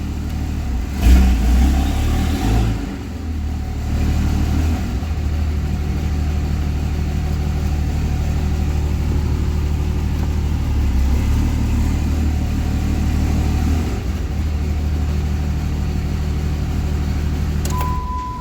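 Cummins diesel truck engine with a 48RE transmission, idling steadily in drive with the lockup switch engaged, a loud continuous low rumble with no talk.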